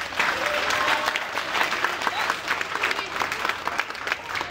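A conference audience gives a sustained round of applause, a dense, loud wash of many hands clapping steadily for several seconds.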